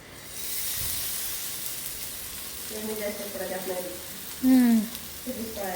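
Marinated fish pieces sizzle steadily on a hot pan, a close, continuous frying hiss with sharper spitting and a brief louder crackle as pieces are added, while a voice talks over the cooking.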